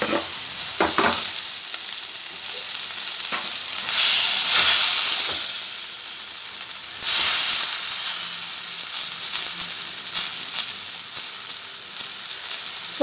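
Tomatoes fry with small onions and curry leaves for a fish curry, producing a loud, continuous sizzle with hissing surges and occasional stirring scrapes close by.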